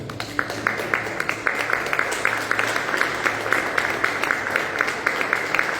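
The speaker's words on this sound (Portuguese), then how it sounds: "Palmas para Jesus." A church congregation claps in a steady, rhythmic beat, about three claps per second, moderately loud over background murmur.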